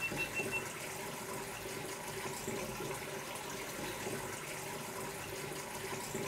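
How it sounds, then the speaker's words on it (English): A household water tap runs steadily, switched on by voice command through a GoPro, giving a constant broadband hiss and splash that stays even throughout with no talking. "GoPro, tap on."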